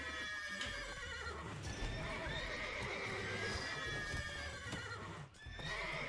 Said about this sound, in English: Oh, the horses are making way too much noise.